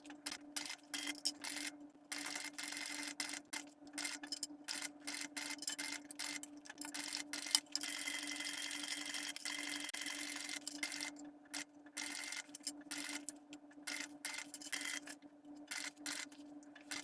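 A sewing machine stitches a quarter-inch seam around a satchel gusset, running in repeated short rhythmic bursts with brief pauses between, steady and close, over a constant low hum.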